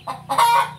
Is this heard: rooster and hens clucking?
yes